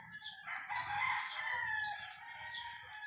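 A gamecock crows once in a long, strained call lasting a few seconds, fairly close and clear, with faint low background noise beneath it and no talk over it.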